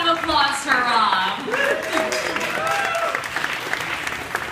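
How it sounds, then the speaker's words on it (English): An audience at a YouTube Helpouts event applauds in a dense, sustained patter, with people talking and calling out over the clapping throughout. "one more round of applause for Rob"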